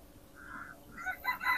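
A rooster among chickens for sale in Kuwait gives short, faint crowing calls in a few brief bursts over quiet background noise, with no speech.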